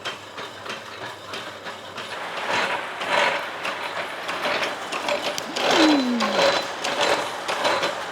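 A lathe cutting metal, its rattling, clanking mechanism running steadily with a rough grinding texture and a brief descending squeal partway through, close and fairly loud, no talking.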